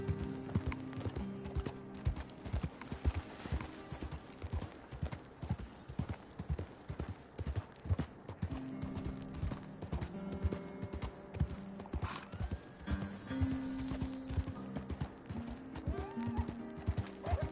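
Horse hooves clip-clop rhythmically and continuously in Red Dead Redemption 2 under steady riding, with a whinny or two and faint game background sounds layered in.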